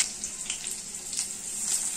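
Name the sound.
cardamom, cloves and pepper sizzling in hot oil for tempering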